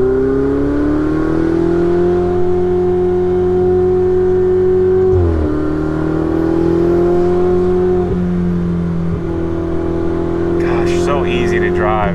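Ferrari 488 Spider on a mountain road, its engine droning steadily close up with a shift-like dip midway, a brief rev change near the end, and people talking over it.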